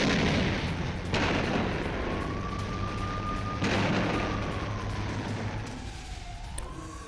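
Heavy explosions from bombing in Beirut boom out in a few broad, rumbling blasts spaced seconds apart, while a wailing siren rises and falls beneath them.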